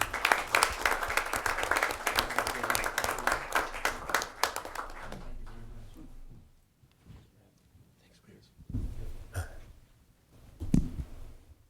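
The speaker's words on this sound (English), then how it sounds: "a round of applause for these folks doing something new" An audience at a city council meeting applauds with loud, dense clapping for about five seconds, then tapers off into scattered claps and quieter room noise.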